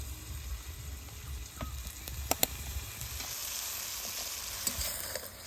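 Turmeric, salt and Kashmiri chilli powder sizzle in hot oil as they are stirred for an egg curry, a steady close frying hiss with a few sharp clinks of the spoon against the pan.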